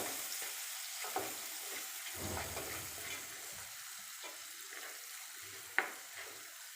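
Finely chopped medium onions sizzle quietly in a pan, a soft steady crackle with occasional stirring clatters and one sharp clink of a utensil.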